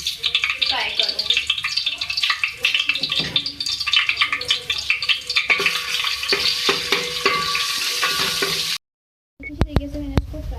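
Ginger garlic paste sizzles and crackles steadily in hot oil, with stirring clatter throughout, cutting off briefly near the end before a few scrapes return.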